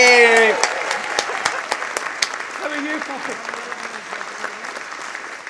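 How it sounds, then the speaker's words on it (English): A studio audience breaks into applause that continues for several seconds, crisp claps scattered through a steady clatter, while a voice greets someone over it and music fades at the start. "What about some applause?"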